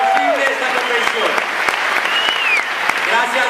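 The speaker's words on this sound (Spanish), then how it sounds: "Nuestro gran aplauso esta noche por hacer posible esta convención." A convention audience in Madrid applauds loudly and continuously, many hands clapping in a dense wash, while voices and cheers rise and fall over it.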